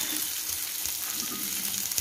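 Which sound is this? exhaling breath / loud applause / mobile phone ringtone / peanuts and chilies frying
peanuts and chilies frying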